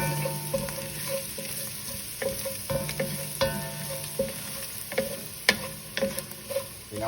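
Minced garlic cooks in a pan for a tomato meat sauce, giving a steady sizzle with occasional sharp clicks and scrapes of stirring, close and moderately loud throughout.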